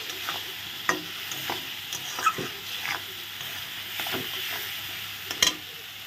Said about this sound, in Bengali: এখন দিয়ে ভালো করে নেড়ে চেড়ে নিচ্ছি।